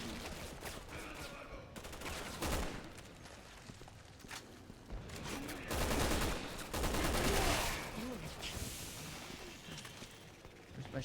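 Shotgun fire in the survival horror game Friday the 13th, a few loud broadband blasts breaking out of busy in-game noise, with bursts clustered near the start and in the middle.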